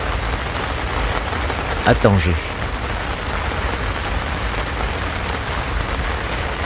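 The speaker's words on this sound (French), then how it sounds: "Bah, c'est la première pluie depuis 2 mois." First rain in two months falling at night in Tangier, a steady dense hiss of rainfall on surfaces with one brief thump partway through and a short spoken phrase.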